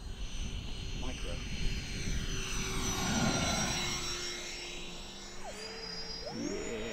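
An E-Flite A-10 Thunderbolt model jet with twin 64mm electric ducted fans whooshes overhead in a rising and falling whine that sweeps past as it climbs, while people talk nearby.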